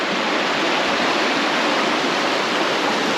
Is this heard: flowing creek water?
yes